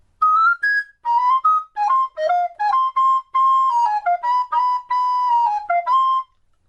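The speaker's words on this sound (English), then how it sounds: "next I have the treble recorder" Treble recorder playing a lively tune of clear, pure notes, mostly short and separated with a few held longer, heard solo and close with no voices.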